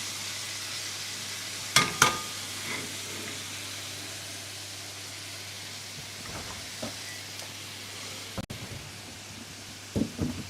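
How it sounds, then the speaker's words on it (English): Large batch of onions frying in a pan, a steady soft sizzle running throughout with a few brief clatters of stirring utensils, no talk. "All I'm doing is frying up a shit ton of onions."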